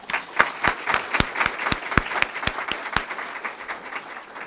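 An audience breaks into applause, a burst of many hands clapping close and steady for a few seconds with a few louder individual claps standing out, no voices over it.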